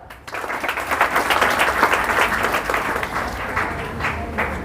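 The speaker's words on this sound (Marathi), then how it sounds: "टाळ्या." An audience claps at an award ceremony honouring an educational institution. The applause starts abruptly, swells to a full sustained crowd ovation and holds steady with no talking.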